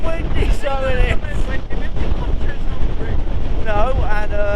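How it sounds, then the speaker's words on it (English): Heavy wind buffeting the microphone outdoors at Castleton, Derbyshire, a loud low rumble running throughout while someone talks over it. "I've got no idea what you're going to pick up, because it's a little bit windy"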